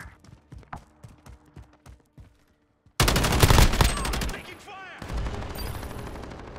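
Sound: gunfire in Call of Duty Modern Warfare video game

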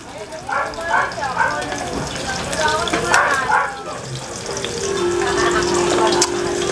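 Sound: pork being sautéed in a pan

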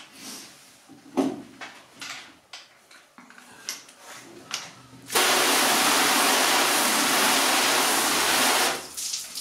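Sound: rinsing a waxed car panel with water

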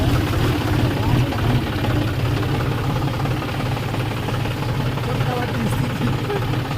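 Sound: tractor engine driving out of a river

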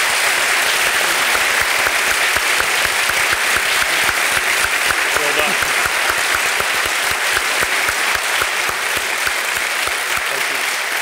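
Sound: audience applause for debate speakers

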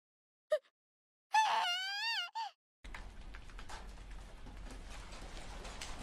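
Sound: hail falling in video game Sword Art Online Last Recollection

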